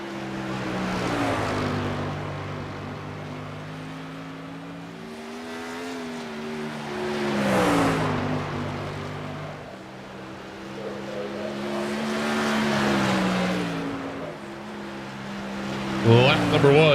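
Sprint car engine screaming through a qualifying lap at Five Flags Speedway in the iRacing sim, pitch rising and falling in waves as the car accelerates down straights and lifts into turns, with a commentator talking over it.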